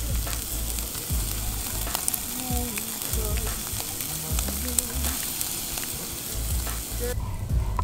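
Carne asada sizzles and fries on a grill on a hilltop outing, a steady crackling hiss with scattered pops and scraping stirs throughout, close and continuous, with brief voices in the background.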